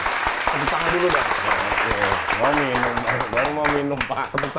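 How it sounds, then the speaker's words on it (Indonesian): Applause rises from an audience at an Indonesian comedy show, a dense clapping wash mixed with voices and laughter throughout. "Tepuk tangan dulu dong."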